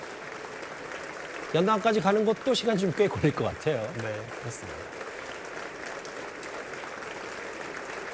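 Sustained applause from US senators and representatives greeting President Yoon in the Capitol chamber, a constant bed of clapping running throughout beneath someone commentator's Korean narration.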